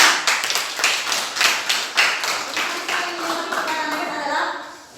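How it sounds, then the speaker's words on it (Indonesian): An audience claps for Rena, loud clustered hand claps in an uneven rhythm that gradually thin out and fade toward the end. "tepuk tangan dulu buat Rena"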